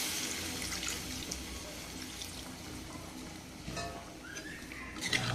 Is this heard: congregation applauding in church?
no